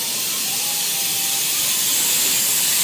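A loud, continuous steam hiss from a train at an amusement park, close and unbroken for the whole stretch, with a faint thin whistle-like tone briefly under it.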